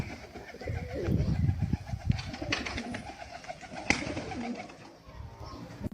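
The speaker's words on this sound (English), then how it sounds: "This is called a tumbler pigeon" A tumbler pigeon coos in low, soft, throaty bursts close by, with a few light scuffs and clicks between the calls.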